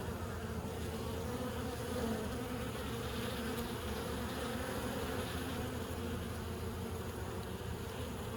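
Honey bees carrying pollen buzz at the hive in a dense, continuous drone, steady and fairly close, with no voices over it.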